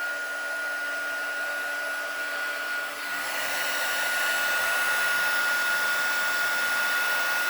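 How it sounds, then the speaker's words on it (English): Handheld craft heat tool blowing hot air onto embossing powder on paper flowers, a steady loud hiss that swells louder partway through and keeps roaring without a break. "I'm going to go ahead and heat it with my heat tool"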